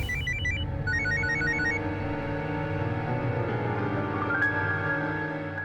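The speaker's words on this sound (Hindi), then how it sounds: "शादी से 2 दिन पहले अचानक उसका फोन आया था।" A telephone rings with a repeated electronic trilling ringtone in short bursts near the start, laid over a low sustained background tone; the ringing is clear and close, and no one speaks.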